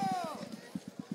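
Rapid horse hooves clop in a quick irregular rhythm during an escaramuza riding presentation while a voice speaks over them.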